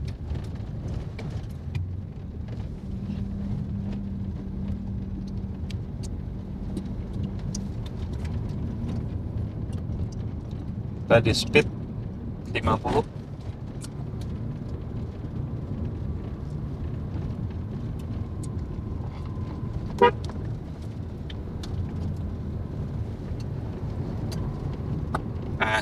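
Tire road noise from a Nissan Serena C26 at about 50 km/h on rough asphalt near a housing estate: a steady low rumble fills the cabin throughout, with a few brief clicks and knocks and a short spoken line.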